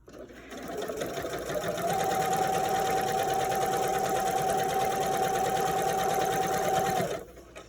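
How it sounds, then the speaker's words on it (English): A sewing machine runs steadily for about seven seconds while top stitching a fabric face mask, a close, continuous motor whir with rapid needle chatter that starts and stops cleanly. "So again, this is just the top stitching that I'm doing right here."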